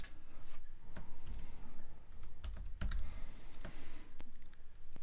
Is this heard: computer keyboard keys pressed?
yes